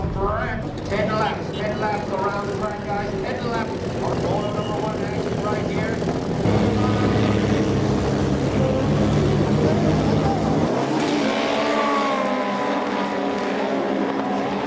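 Pro Runabout Open jet skis roar off the start together, a loud continuous engine howl with rising and shifting pitch as the pack accelerates, with a race commentator talking over it.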